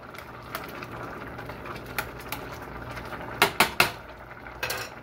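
Mushroom soup being stirred in a pot, a utensil scraping and clinking against the metal in scattered soft strokes over a low bubbling background, with a quick burst of three sharper knocks near the end.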